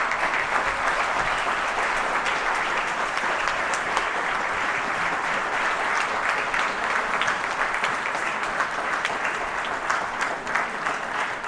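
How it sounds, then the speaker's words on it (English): An audience at a New York assembly member's annual report event gives a long, even round of applause, dense clapping that holds steady for over ten seconds. "Ladies and gentlemen, please give a round of applause"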